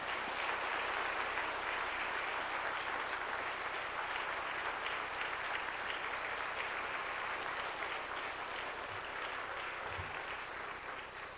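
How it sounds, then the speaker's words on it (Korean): Warm, sustained congregational applause in a church welcoming a guest speaker, a thick steady roar of many hands clapping, moderately distant and uninterrupted by talk. "나오실 때 뜨거운 박수로 환영하겠습니다."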